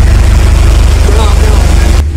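Tractor engine running with a steady, loud low rumble throughout, its idle pulsing evenly while a person talks over it; the engine sound cuts off abruptly near the end.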